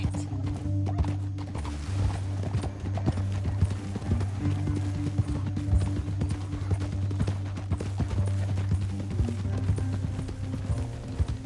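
Steady clip-clopping of horse hooves at a trot in Red Dead Redemption 2, continuous and fairly loud throughout, with a faint whinny.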